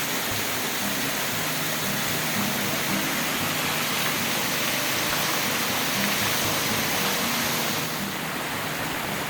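Waterfall on Reed Creek along the Terrapin Mountain trail, a loud unbroken rushing roar of falling water that fills the scene evenly and close by, with no voices over it.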